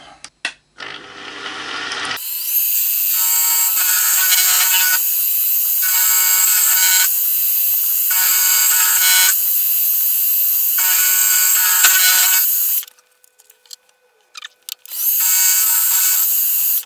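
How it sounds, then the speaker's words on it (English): A metal-cutting end mill takes a roughly 10 mm cut while making a gear cutter, giving a loud, steady, high whining screech in long unbroken passes, a brief drop near the end, then the cutting resumes. "You're going to mill about 10 millimeters."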